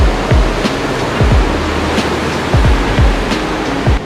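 Ocean surf rolls and washes in on an overcast day, a loud, continuous roar of breaking water with repeated low thumps of wind buffeting the microphone.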